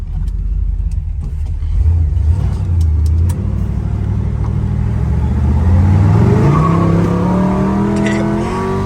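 1969 Pontiac GTO V8 engine on the road, a rough low idle-like burble that builds into a loud rising rev as the car accelerates, close and strong, with some faint clicks early on.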